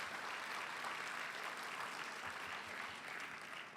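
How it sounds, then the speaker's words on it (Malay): At a teacher awards ceremony, a hall audience gives a sustained round of applause for the teachers. It is a dense, even roar of many hands that holds steady for nearly four seconds and then eases slightly at the end. "Beri tepukan untuk semua guru-guru dan dewan di hari ini."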